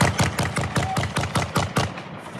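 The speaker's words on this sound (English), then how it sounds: "American security guards opening fire." American security guards fire a rapid, evenly spaced burst of automatic gunfire in footage filmed by a US soldier. About a dozen loud, sharp shots come in a steady rhythm, with no talk.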